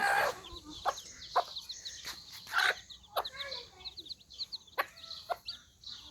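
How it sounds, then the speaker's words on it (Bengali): Native desi chickens cluck in a rural village yard, with a lively run of close, repeated clucks and short calls rising and falling over several seconds. "কতগুলা একদম পারফেক্ট দেশি মুরগি"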